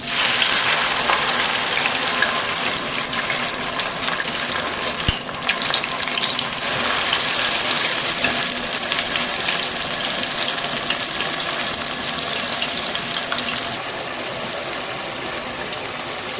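Tomato and pepper mix fries in bleached palm oil, giving a loud, steady, close sizzle that runs continuously and eases slightly near the end.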